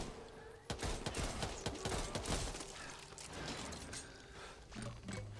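Rapid gunfire in the co-op shooter game Back 4 Blood, a burst of dense, overlapping shots in the middle of the clip followed by mechanical clicks and weapon handling, heard at moderate volume.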